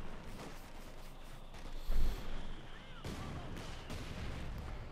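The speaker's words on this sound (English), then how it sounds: "A lot of mortar fire." Distant mortar and artillery fire in the real-time strategy game Company of Heroes 2, with farmland battle sounds: muffled booms and rumbling blasts, one heavier thump near the middle, over a constant low battlefield wash.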